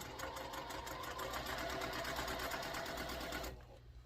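A sewing machine runs continuously as rectangles of a quilt block are chain pieced, with a fast, even mechanical stitching rattle at close range that stops abruptly near the end.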